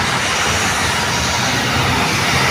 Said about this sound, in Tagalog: palipad na agad yung eroplano